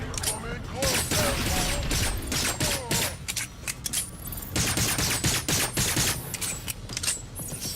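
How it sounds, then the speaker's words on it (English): Rapid automatic gunfire bursts from the video game Agents of Mayhem, dense and loud throughout, with short pauses between volleys and mechanical clanks mixed in. "Firing now! Come in closer!"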